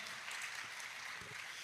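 A church congregation claps together in a brief, dense burst of applause, even and sustained with no pauses, heard from within the crowd.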